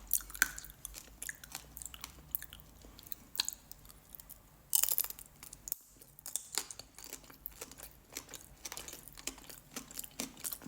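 Close, quiet chewing of Babybel cheese coated in tanghulu candy, a series of soft irregular crunches and bites with one sharper crunch partway through, and no talking.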